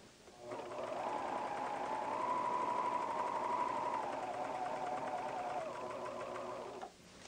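A PFAFF Hobbylock serger runs steadily for about six seconds at high speed, stitching fabric up to an outside corner, with a smooth whirring hum that starts and stops abruptly.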